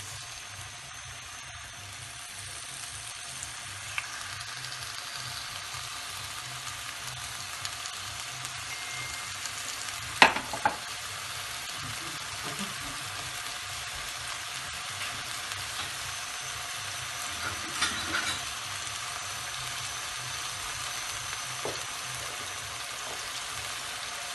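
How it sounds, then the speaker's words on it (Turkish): Chicken döner slices fry in a hot pan, giving a quiet, continuous sizzle with a few soft clicks and spatters along the way. "Tavamız kızdı. Böyle aldığı kadar yaprak dönerlerimizi koyalım."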